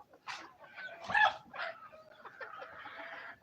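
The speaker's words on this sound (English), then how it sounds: "These are all local birds." Twelve-week-old local hens give faint, scattered clucks and short calls close by in a quiet setting, with a slightly louder squawk partway through.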